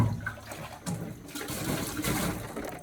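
Fruit being washed in rainwater outdoors on the Big Island, with water splashing and swishing in uneven surges, quiet and close, with no talking.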